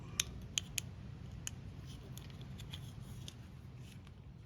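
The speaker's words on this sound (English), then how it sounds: "So the next step is to cut a piece of heat shrink." Small scissors or a cutting tool snipping a piece of heat shrink tubing, a few faint quick clicks near the start and later, under low background hum.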